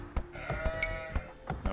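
Several short sheep bleats from Age of Empires II, quavering calls recurring in quick succession, close and fairly loud over faint game ambience, with no talk.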